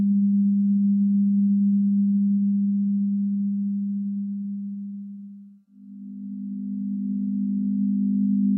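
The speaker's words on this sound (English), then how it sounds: "This is a composite sound with a 200 Hz sine wave and an additional component at 250 Hz." A monaural composite tone of 200 Hz and 250 Hz sine waves hums steadily and alone, fading to a brief near-silent dip before returning at full, even loudness.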